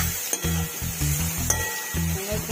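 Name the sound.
tomatoes roasting and being stirred in pan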